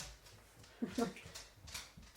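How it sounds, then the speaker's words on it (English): A pet dog comes over and lets out a short, soft whimper, faint and indoors, while a person's voice is heard nearby. "Oh, my dog's coming."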